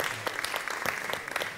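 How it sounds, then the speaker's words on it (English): Brief applause from an event audience, a quiet, scattered patter of clapping hands heard at a distance for a moment. "Give him a big round of applause."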